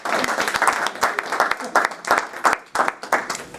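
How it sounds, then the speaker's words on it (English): A crowd applauds with a burst of many hands clapping, steady and fairly loud throughout, with uneven peaks as the clapping swells. "A huge round of applause for Dr. Robert."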